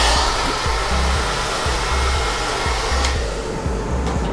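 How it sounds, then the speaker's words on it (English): A handheld blow dryer drying hair while styling runs as a loud, steady airy whoosh with a faint pulsing motor hum, close by with no talking. "And then you just hit it with a blow dryer."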